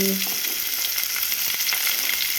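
Chopped onion and green chillies fry in hot oil with cumin, a loud, steady close sizzle with a few faint stirring knocks.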